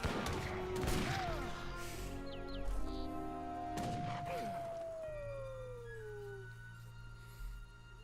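Musket volleys crackle in an Age of Empires 3 battle, a few sharp bursts of gunfire mixed with game sound effects, including a long howl-like tone fading over several seconds.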